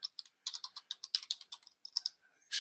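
Fingers tap out a quick run of clicks on a computer keyboard, crisp and close, with brief irregular pauses between bursts of keystrokes.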